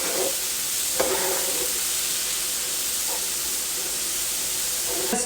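Onions and cumin cook in oil for a Goan-style tempeh curry, producing a constant close sizzle with a few soft stirring knocks and scrapes and no voices.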